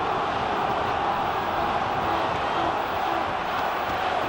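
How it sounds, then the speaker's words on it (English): A rugby stadium crowd at an All Blacks versus Wallabies Bledisloe Cup test grumbles at a big-screen replay, a dense, steady roar of many voices filling the whole moment. "Crowd seeing it on the big screen and not too happy with it."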